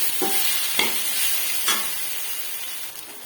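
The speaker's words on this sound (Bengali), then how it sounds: "এবার এর মধ্যে আমি পোস্ত বাটাটা দিয়ে দেবো, দিয়ে নেড়ে চেড়ে শুকনো করে নিলাম।" A spatula scrapes a pan a few times at a slow rhythm while poppy seed paste is stirred into frying potatoes and onions, over a steady close sizzle with no talking.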